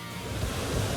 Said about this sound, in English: Still great windy conditions